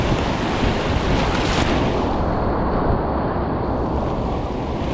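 Whitewater rapids on the Middle Ocoee River, heard as a loud, continuous broadband rush of churning water mixed with wind buffeting the microphone, with no voices.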